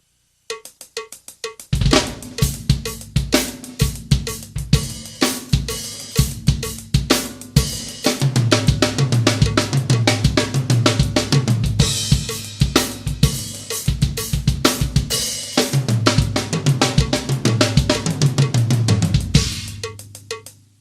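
Loud drum kit groove with busy repeating five-note grouping figures over a steady beat, cymbals and kick driving continuously, with no talking.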